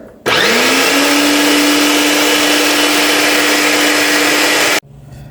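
A blender whirs loudly and steadily for several seconds, puréeing a dry-ish pepper filling for roti. It switches on abruptly, holds a constant whine, then cuts off sharply.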